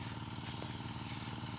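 A small diesel engine used to pump water runs steadily nearby with an even, throbbing chug, loud and continuous with no speech over it.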